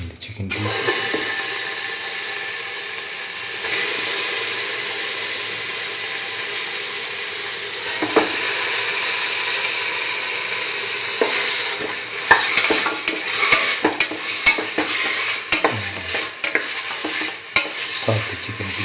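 Chicken pieces sizzle and fry in a thin layer of hot oil in a pan, a loud continuous hiss with scraping stirring clatter toward the end.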